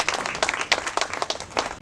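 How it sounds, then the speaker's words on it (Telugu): Applause from the audience at the Icon Indian Film Awards 2024 ceremony, a steady crowd clapping with distinct sharp claps standing out throughout, moderately loud. "Big claps."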